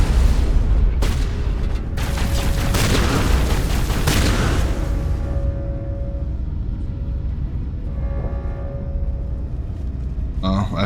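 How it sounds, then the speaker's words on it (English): A shotgun in Mass Effect 1 booms loudly with heavy, rumbling blasts during combat, with a few sharp bursts early and a sustained roar that fades into a quieter tail, while a voice talks throughout. "this shotgun is so overpowered"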